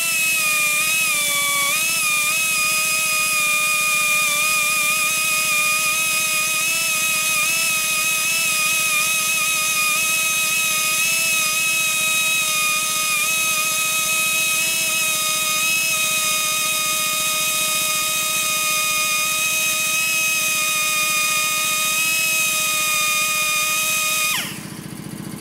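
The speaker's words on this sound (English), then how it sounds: "Switch over to fine stone, fine cutter, burr, smooth it up a little bit." A high-pitched rotary grinder with a fine stone and cutter burr whines steadily and loudly at close range while blending 1948 Harley-Davidson panhead 74ci motor cases, holding a near-constant pitch and then spinning down at the very end.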